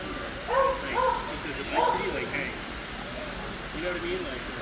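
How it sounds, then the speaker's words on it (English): Dog barking indoors in a busy hall at a model train show, a few short yelps and barks in the first half, moderately distant under constant crowd chatter. "Somebody's dog is in here barking."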